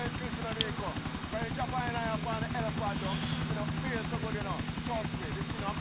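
A helicopter in Grand Theft Auto IV drones steadily with a rapid rotor chop throughout, loud and constant, while gunfire and game effects sound faintly underneath.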